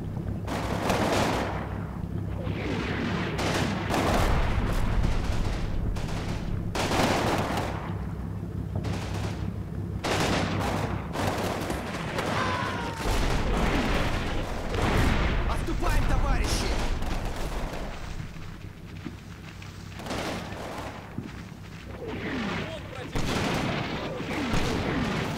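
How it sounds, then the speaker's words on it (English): Machine guns rattle in a strategy video game's training campaign, with repeated loud bursts and fusillades of gunfire plus booming artillery-like blasts continuing throughout, and a voice talking over the battle. "you're going to see that they just shoot with their machine guns"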